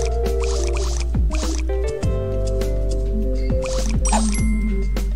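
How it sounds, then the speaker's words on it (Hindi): Tractor being washed in a farming video game, with foam, scrubbing and water sounds: wet dripping and squishing over a steady synthetic game hum, with repeated splashy bursts. "अब हमें हमारी गाड़ी को करना होगा वॉश, क्योंकि ये बहुत गंदी हो चुकी है।"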